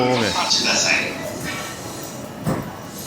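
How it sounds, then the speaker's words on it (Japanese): An Ome-line train rolls into a station in the Okutama area of Tokyo with a whining, hissing sound, while someone talks over it nearby. "停車中の電車来ましたね"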